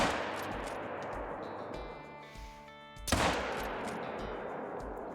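A single loud .45-70 rifle shot cracks out in theHunter: Call of the Wild, ringing with a bright metallic tail and layered reverberation over steady outdoor ambience.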